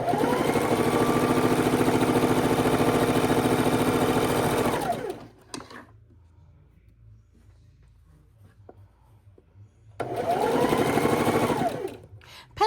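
Sewing machine stitching half square triangles for a scrap quilt top runs steadily and close for about five seconds, falls silent for a few seconds, then starts up again at the same even whir.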